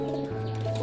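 A male Sila pigeon coos up close in a low, steady, droning tone that runs through the whole short moment, with no voices.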